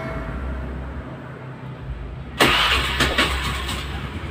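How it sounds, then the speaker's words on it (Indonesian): A Honda Beat scooter engine with a loss-of-compression fault cranks and fires at once, settling into a loud, steady idle with a couple of quick revs, close by. "Motor akan saya hidupkan terlebih dahulu."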